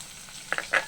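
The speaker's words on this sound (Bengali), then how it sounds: "প্রথমে রসুন আর কালি জিরাটা ভেজে নেব।" Garlic and black cumin seeds fry in hot oil. A faint background hiss breaks into two quick sizzling crackles and then one louder burst, close by.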